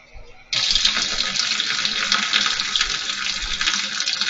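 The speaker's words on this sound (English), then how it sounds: "I'm going to fill the tank up." Warm water pours steadily into a washing machine tank with its lid open, a loud continuous rushing stream starting abruptly and running without pause, close by.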